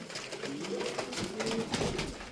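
Several tumbler pigeons coo in a low, rolling murmur amid light flapping and shuffling, moderately close and continuous for a couple of seconds.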